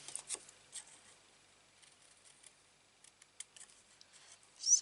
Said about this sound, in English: it's so easy to fussy cut them